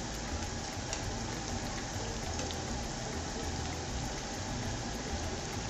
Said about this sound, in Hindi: पलट के फ्राई करेंगे